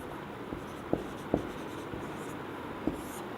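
A pen writes on paper during an RCC beam drawing, quiet scratchy strokes with a few sharper taps of the tip scattered across a faint background hiss, close and alone.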